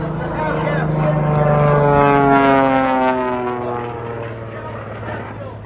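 Aircraft flying past at EAA Oshkosh, a loud droning engine whose pitch sweeps downward as it passes, swelling and then fading, with a voice talking over it.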